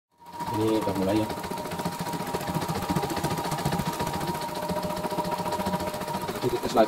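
A CNY E960 embroidery machine runs steadily after a repair for a rattling noise, its fast rhythmic stitching loud and continuous, with a voice speaking briefly over it at the start.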